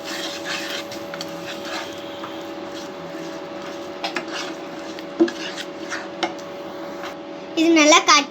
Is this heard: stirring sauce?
yes